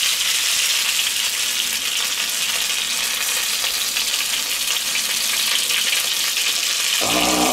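Bavarian meat patties (Fleischpflanzerl) frying in a very hot pan give off a loud, continuous, close sizzle that holds steady throughout, with no voices.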